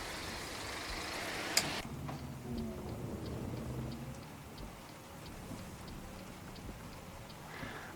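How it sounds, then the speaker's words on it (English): Rain patters steadily on a bus windshield in the Euro Truck Simulator 2 driving game, a soft, even hiss with a faint rumble beneath it and one sharp click early on. "the rain just magically disappears."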